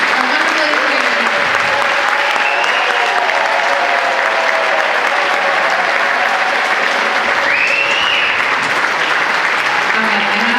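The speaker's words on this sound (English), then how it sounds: "Round of applause, please." Audience at a middle school spring strings orchestra concert claps in a thick, even wall of applause that stays loud throughout, with some voices mixed in.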